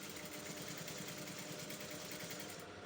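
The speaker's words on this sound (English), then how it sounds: "So you're going to be sewing at the edge of this" A sewing machine runs steadily, stitching a seam along the edge of a kimono shift dress, its fast, even whir continuous and close before cutting off at the end.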